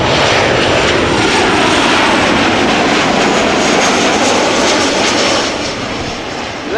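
A Transavia jet landing at Amsterdam Schiphol after a flight from Palma de Mallorca produces a dense, loud, sustained engine roar that holds steady before dipping slightly at the end.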